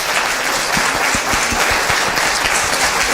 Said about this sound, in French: je voudrais qu'on applaudisse très fort